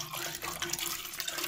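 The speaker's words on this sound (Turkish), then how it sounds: "Şimdi hem elimle sürttüm hem de su döküyorum oraya." Water poured from a container into a toilet cistern while scale is scrubbed off the float valve, a steady close splashing and trickling that runs continuously without pause.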